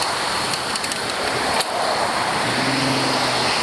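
Road traffic rushes past a cyclist on a Toronto waterfront trail, a constant broad roar of passing vehicles with a brief swell midway and a low engine drone near the end, loud and without talk.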